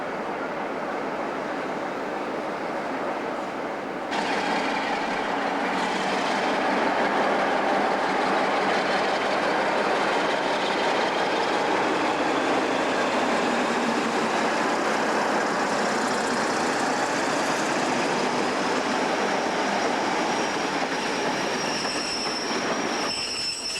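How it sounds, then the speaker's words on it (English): A Class 47 diesel locomotive pulling out of Manchester Piccadilly station in 1991, a loud, sustained rumble of engine and rolling wheels that swells after a few seconds, with squealing wheels and a clickety rhythm. "This is a Class 47 leaving Manchester Piccadilly Station."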